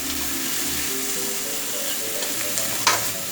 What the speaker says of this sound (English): Lower the heat, and we're going to stir it in here a little bit.